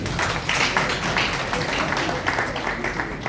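An audience applauding a young girl: a sustained patter of many hands clapping, moderately loud and even, filling a room without a break.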